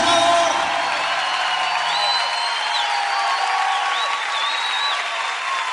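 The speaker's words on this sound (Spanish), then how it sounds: "Ríndele ese aplauso más fuerte a Jesucristo el Salvador" Church congregation applauding for Jesus Christ during a sermon, a steady, dense wash of clapping with scattered whoops and cheers, filling the hall loudly and continuously throughout.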